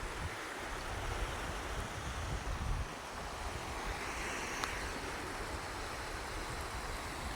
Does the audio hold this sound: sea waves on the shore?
yes